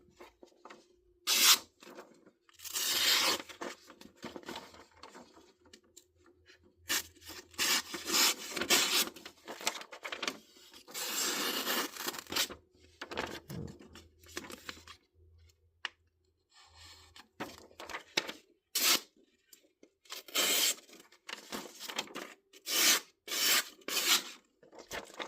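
A Kubey knife slices and tears through a sheet of paper in repeated rasping, scratchy bursts separated by short pauses, close up and fairly quiet with no talking.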